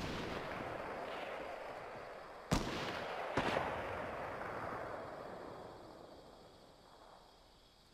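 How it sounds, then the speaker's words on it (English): Assault rifle fire in the Fortnite video game, two sharp loud shots a second apart cutting through a dense roaring game-sound bed, with another crack at the very end. "This is an assault rifle too, like better quality."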